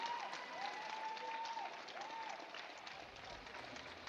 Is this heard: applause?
yes